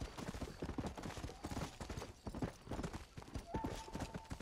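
Horse hooves clip-clopping at a steady trot in the video game Red Dead Redemption, a fast continuous rhythmic clatter up close, loud throughout with a faint tone near the end.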